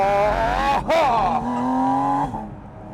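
A Lamborghini Huracán Tecnica engine revs up loud and near, pitch rising and dipping as it accelerates under half throttle during break-in, then easing off at the end.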